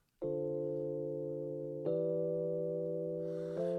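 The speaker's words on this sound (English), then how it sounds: "We got a Wurlitzer on here." A Wurlitzer electric piano heard through a direct input plays sustained chords, three clean held chord changes ringing steadily with a mellow, bell-like tone and no talking.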